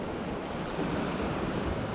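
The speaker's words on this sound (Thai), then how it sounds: "คลื่นค่อนข้างแรงนะครับวันนี้" Strong ocean waves break against a rocky shore in a steady, dense roar of surf and spray mixed with wind noise, loud and continuous without distinct breaks.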